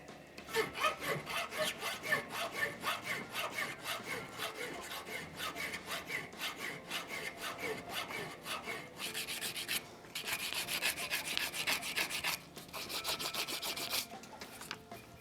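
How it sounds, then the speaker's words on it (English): Metal files rasp back and forth on a torch holder, working off a raised bump, first with a coarse file and then a fine one; steady, close, rhythmic strokes with brief pauses between passes. "Start with this file, then switch to the fine file."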